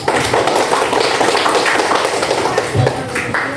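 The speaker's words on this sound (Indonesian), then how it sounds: "Berikan tepuk tangan untuk kelompok 1." Classroom applause for the first student group after their presentation, a dense, steady burst of many hands clapping close by and filling the whole moment.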